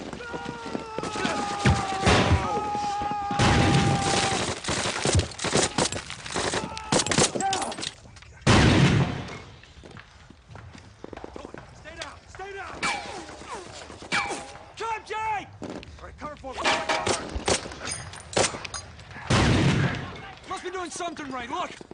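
A World War II battle scene from the war drama Band of Brothers, with repeated bursts of gunfire and heavy booming blasts, loud and near, as soldiers shout between the shots.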